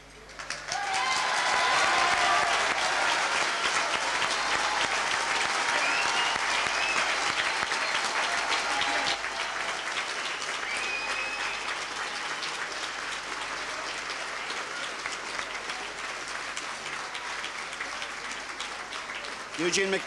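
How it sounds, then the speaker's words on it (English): A big stadium crowd at the 1995 All-Ireland Gaelic football final between Dublin and Tyrone roars into thunderous, sustained applause and cheering, loud at first and easing slightly, while a commentator talks over it. "that's a thunderous ovation"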